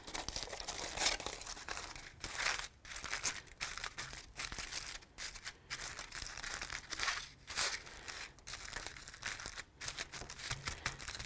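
Fabric is crumpled into crinkles by hand, giving close, faint, rustling crackles in uneven bursts with short pauses between squeezes.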